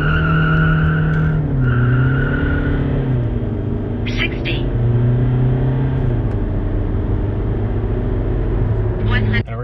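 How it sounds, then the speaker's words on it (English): A Volkswagen common-rail TDI car launching from 2000 RPM with traction control off, a loud close engine drone rising in pitch while the tires squeal and skid for several seconds. "Here we're gonna launch at, traction control off. We're gonna launch at 2000 RPM,"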